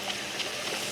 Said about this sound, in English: and you'll see a waterfall.